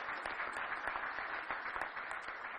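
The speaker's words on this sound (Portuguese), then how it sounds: "a quem eu queria pedir aí uma salva de palmas para o deputado Zezéu" Applause for a deputy at an award ceremony held in the Urban Development Committee plenary, a dense and steady patter of many hands clapping together, heard from a distance and rather faint throughout.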